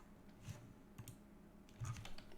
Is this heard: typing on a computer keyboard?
yes